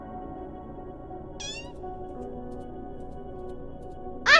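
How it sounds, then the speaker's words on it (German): A cat meows in the video game Copycat: one short, clear meow, then a louder, sharper meow at the end over a steady soft music bed, with no talk. "Hier eine Katze."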